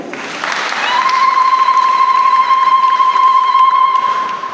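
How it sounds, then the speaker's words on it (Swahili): Congregation at a Sunday Mass in a parish church claps together, a loud steady burst of applause with a sustained electronic tone ringing underneath. "Tupige Mungu makofi"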